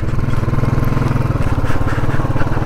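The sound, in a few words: motorcycle riding toward Muktinath temple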